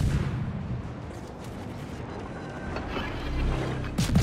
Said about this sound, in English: He's turning the guns for you now.